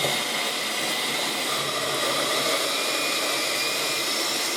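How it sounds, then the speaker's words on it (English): An electric hand mixer beats cookie dough with a loud, continuous, even motor whine and airy whir, unbroken from start to finish. "my hand mixer has 1 through 5 numbers"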